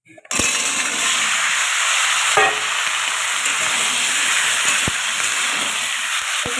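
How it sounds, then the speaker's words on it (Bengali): Chopped vegetables hit a hot pan and sizzle loudly and steadily in a home kitchen for Bengali onion- and garlic-free cooking, with a few sharp clinks of stirring over the continuous frying hiss. "এবারে আমি দিয়ে দেব কেটে রাখা সব সবজি"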